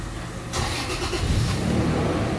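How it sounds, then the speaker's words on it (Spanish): Toyota Tacoma pickup engine turning over and catching, then running unevenly in a short burst before it dies out, heard close with no talking. "Enciende y se apaga."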